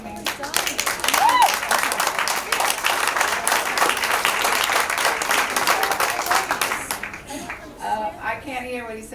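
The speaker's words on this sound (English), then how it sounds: "I can't hear what he said because you guys are cheering loud" An audience at a school board meeting breaks into loud, dense applause and cheering that holds steady for several seconds before thinning out, with voices talking as it fades.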